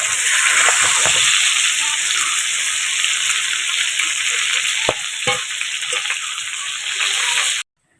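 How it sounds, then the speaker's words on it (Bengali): Crabs fry in hot oil seasoned with turmeric, chili powder and salt, giving a loud, steady sizzle that runs unbroken for most of the stretch before cutting off abruptly near the end. "হালকা লঙ্কার গুঁড়ো দিয়েছি একটু হলুদ গুঁড়ো আর একটু লবণ দিয়ে ভালো করে কাঁকড়াগুলো ভেজে নেব"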